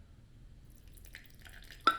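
A small splash of water, about half a teaspoon, is added to a jar of sourdough starter, giving a faint drip and trickle with a brief sharper drop near the end over quiet background.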